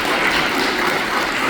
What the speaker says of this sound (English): It's okay to clap, yes.